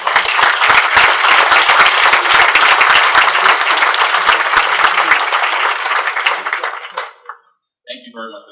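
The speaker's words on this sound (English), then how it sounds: "Everyone, please give me a warm round of applause as we welcome President Hill once again" Close, energetic applause from a conference audience welcoming President Hill at the Invest: Greater Fort Lauderdale launch. It holds strong for several seconds, thins and stops, and a voice speaks briefly afterward.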